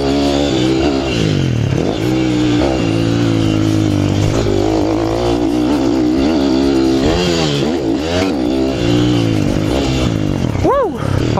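A motorcycle lapping a training ground, its engine loud and close throughout, rising and falling in pitch as it revs and accelerates, with a final quick rev at the end.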